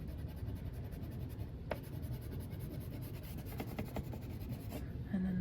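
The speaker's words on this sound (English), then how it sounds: "So with my black crayon, I'm going to color the front part." A black crayon colors on paper in close, continuous rubbing strokes, a soft waxy scratching with a few sharper accents as the crayon drags and changes direction.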